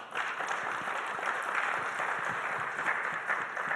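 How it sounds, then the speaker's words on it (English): An audience at an awards celebration applauds the honoured cohort, a moderate, continuous patter of clapping held steady throughout with no voices over it. "So a round of applause to all of you."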